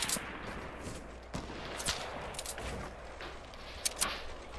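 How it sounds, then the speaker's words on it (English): Scattered gunfire cracks during a Fortnite match on a mountain, several sharp shots spread over a few seconds, fairly faint and distant against steady background noise, with no talking. "we're getting sniped from here"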